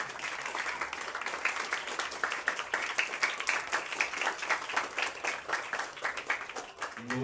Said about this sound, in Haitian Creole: je vous demande de rejoindre vos mains pour un chaud applaudissement